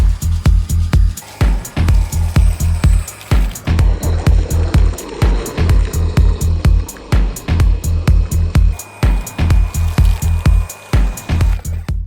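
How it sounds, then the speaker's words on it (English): A Muc-Off battery-powered mobile pressure washer running in eco mode, spraying thick bike-cleaner snow foam: loud, close motor hum pulsing in steady rapid bursts with a hissing spray throughout. "It was finally time to try the pressure washer, and we're going to start in the eco power mode with the bike cleaner snow foam."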